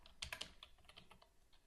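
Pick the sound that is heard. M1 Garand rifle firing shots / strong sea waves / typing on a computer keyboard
typing on a computer keyboard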